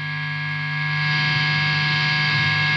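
Steady broadband hiss from an EyeMaster guitar effects pedal with its gain knob turned up, a constant buzzing noise with humming tones that swells slightly louder partway through, alone with no playing.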